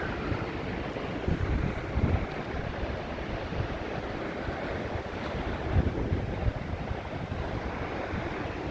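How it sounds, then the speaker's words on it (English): Strong wind roars across the microphone at Blackpool seafront while waves wash in with the tide going out, a loud, steady, blustery rumble with no voices. "It's blowy down here. I think that's a tide going out actually as well"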